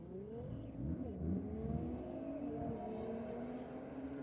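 A Nissan Skyline and a Mercedes-Benz launch off the line at a drag strip, engines revving hard with rising, sweeping harmonic whines that climb together, loud and steady over a few seconds with no talk.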